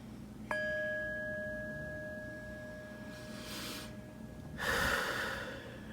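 A slow, deep breath in comes through as two soft airy swells, after a clear chime tone sounds at the start and rings on in a quiet room.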